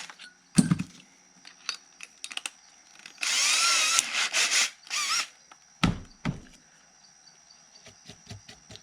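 A drill bores a 7/16 inch hole into the side of a motorized bike crank, with a loud whining burst of about a second, then short bumps and clatter of handling the part close by.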